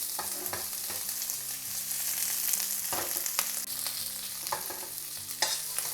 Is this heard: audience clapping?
no